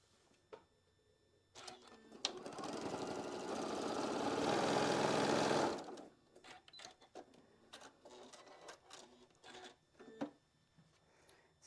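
A sewing machine pieces quilt block fabric one seam at a time, running steadily for about four seconds. Close, quiet handling clicks and fabric rustles come before and after the run.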